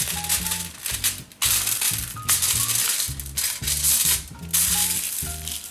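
A strip of material folded in half to make a homemade pastry ring gives a few crisp crinkling crackles, close by, over a steady rhythmic background.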